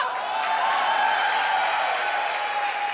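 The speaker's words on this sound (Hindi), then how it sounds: "वो लोग मेरे लिए ताली बजा रहे हैं" Studio audience of a comedy show clapping steadily for a performer, a dense sustained wash of applause filling the whole stretch without pause.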